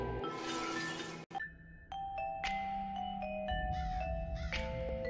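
A doorbell rings with a couple of ding-dong tones, clear and close, over a steady background hum, with no talking.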